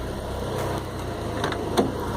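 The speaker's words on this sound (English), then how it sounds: "it's actually having issues here with the idling when the fans kick on" A Mazda 323 with an F2T engine idles roughly when the cooling fans kick on, a steady low engine drone with a slight uneven surge near the end, heard up close and alone.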